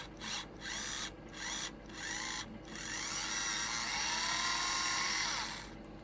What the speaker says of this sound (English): let's just see if that will actually drill through there